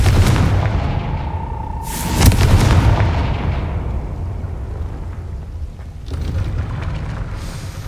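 A Confringo blasting spell goes off in Hogwarts Legacy as a loud, booming explosive burst over a sustained rumbling roar, with a second blast rolling in toward the end.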